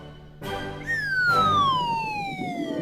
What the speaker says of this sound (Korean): 디노카의 안테나에 빨간불이 계속 울리고 있어요